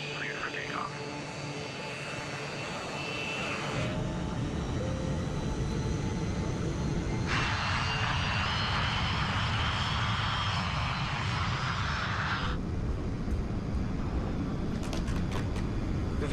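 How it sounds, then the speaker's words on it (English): West Caribbean Flight 708, a jet airliner, takes off at night from runway 21 left at a Panama airport, its engines rising into a steady roar that continues with speech over it. "runway 21 left, cleared for takeoff."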